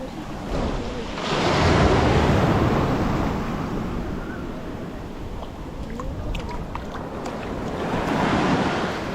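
Ocean waves wash onto a beach while wind buffets the microphone, a broad roaring surge that swells, eases and builds again, with faint scattered sounds from people nearby.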